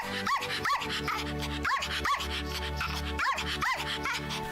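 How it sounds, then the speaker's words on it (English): A dog barks in a steady run of sharp, close barks, roughly six over a few seconds, loud against a busy background with music underneath. "Marcel, don't interrupt when someone's barking"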